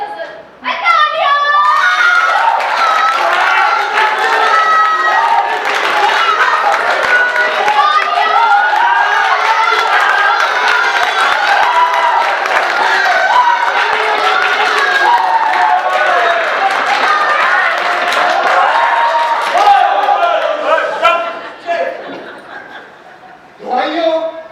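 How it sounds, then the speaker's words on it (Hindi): An audience at a Rangmauli stage play, Chainpur Ki Dastaan, breaks into loud, sustained clapping and cheering for about twenty seconds, with voices mixed in before it fades out. "तालियां!"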